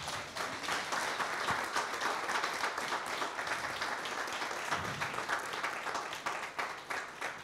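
A church congregation applauds steadily throughout, dense hand claps filling the sanctuary at an even level from start to finish, with no voices rising above the clapping.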